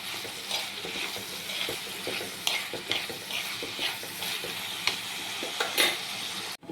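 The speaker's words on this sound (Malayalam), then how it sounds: "ഇനി ഇതിലേക്ക് അരിഞ്ഞു വെച്ചിരിക്കുന്ന ചെറിയ ഉള്ളി ഇട്ട് കൊടുക്കാം. എന്നിട്ട് നല്ലപോലെ ഒന്ന് ഇളക്കി കൊടുക്കാം." Chopped shallots fry in a pan while being stirred, a soft continuous sizzle broken by frequent scraping taps of the spoon against the pan, fairly quiet and close, with no talking.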